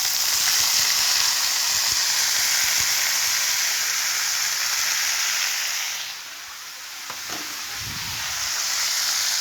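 Vegetables frying in a pan with garlic, onion and ginger: a loud, continuous sizzle and hiss close up, easing briefly midway with a few clinks of stirring before the sizzle swells back.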